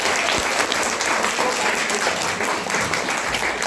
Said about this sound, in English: Clap for the participants.